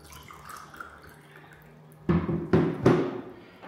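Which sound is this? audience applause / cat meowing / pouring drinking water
pouring drinking water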